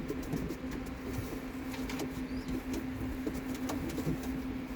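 Low, soft cooing of a racing pigeon repeating over steady background hum, with faint scattered clicks and rustles.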